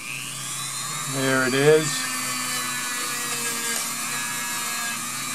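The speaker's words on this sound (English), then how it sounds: "for those of you who just love the sound of a Dremel tool" A Dremel rotary tool cleans a dirty wheel on a restored Rivarossi Cab Forward model train, a high steady whine that bogs briefly as it presses in, with a few spoken words over it.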